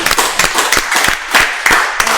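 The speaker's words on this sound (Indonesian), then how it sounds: "kita beri tepuk tangan dulu dong." Audience clapping in quick, uneven bursts, loud and close throughout, with no speech over it.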